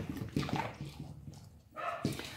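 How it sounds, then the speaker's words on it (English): A dog pushes and rolls a Kibble Nibble food dispenser toy, its kibble rattling and tumbling out in uneven clattering bursts with brief pauses, close by and fairly quiet. "So he's got to roll it around and the food comes pouring out."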